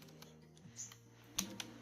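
A few faint, sparse clicks come from a computer keyboard while a MongoDB command is typed, with soft scattered taps and a sharper keystroke near the end over a quiet room hum.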